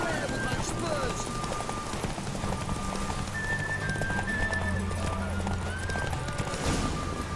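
A horse galloping in the fantasy game The Witcher 3: Wild Hunt, rapid continuous hoofbeats under steady wind-like game ambience and music, with someone speaking over it.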